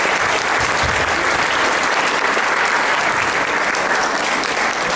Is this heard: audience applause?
yes